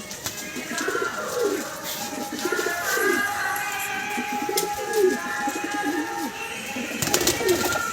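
Andhra tippler pigeons coo repeatedly nearby in their coops, soft throaty calls overlapping in a loose rhythm, with faint background noise.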